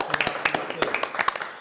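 Brief scattered clapping from a studio audience during a French live show, a few distinct hand claps close by with small gaps between them, short and uneven.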